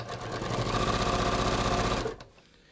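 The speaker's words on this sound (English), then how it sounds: "Now I'm just going to sew right down to the bottom of this gusset." A sewing machine stitches a pants seam in one steady, fast, close run of rapid mechanical pulses lasting about two seconds before stopping abruptly.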